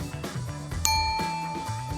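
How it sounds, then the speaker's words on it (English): A single bright bell ding with a lingering ring, struck by a quiz game contestant amid background music. "ring the bell"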